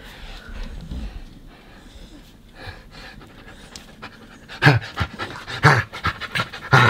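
A dog pants rapidly and snorts close up, the breathing growing louder and more forceful in bursts toward the end.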